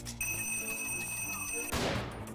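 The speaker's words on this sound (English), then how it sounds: "And we'll blow open these blast doors so that I can get in." A planted bomb blasts open reinforced blast doors in a video game: a steady electronic alarm tone rings, then a sudden loud, broadband explosion bursts and rumbles for the final half second.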